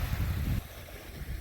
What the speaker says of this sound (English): The wind has definitely picked up a little.